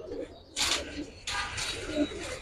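Giribaz pigeons give soft, low coos, with sharp bursts of rustling or flapping between them, close by.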